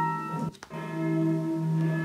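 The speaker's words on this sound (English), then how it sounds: "And this is the church bell on its own" A sampled church bell rings out as a sustained tonal strike with rich ringing overtones, briefly cut by a short gap before the tone resumes and hangs steadily, played alone from a sampler app.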